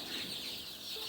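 Sonali chickens on a village farm in Baksa District give a dense, continuous chorus of chirping and clucking, heard close and fairly loud without any talk.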